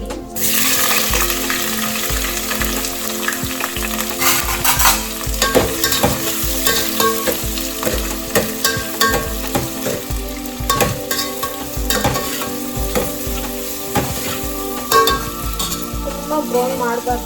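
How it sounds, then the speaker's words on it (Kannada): Onions frying with whole garam masala, bay leaf, cinnamon, cloves and mace for mutton biryani, a steady loud sizzle with repeated stirring scrapes in the pan throughout, no talking. "ತುಂಬ ಬ್ರೌನ್ ಮಾಡಬಾರ್ದು ಈರುಳ್ಳಿನ."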